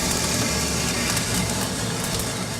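A coffee roaster's cooling tray fan pulling hot air from beneath freshly roasted Guatemalan Antigua beans and out the exhaust, a loud steady broadband whoosh with a low motor rumble, with no talk.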